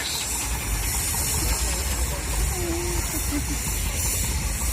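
A McLaren showman's steam engine at a steam rally releases a steady, loud hiss of steam that runs unbroken throughout, with faint mechanical rumble underneath and no talk.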